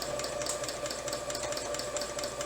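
A domestic sewing machine quilts a queen-size quilt, its motor humming in a steady, even whir with faint rhythmic needle ticks, close and continuous with no talking.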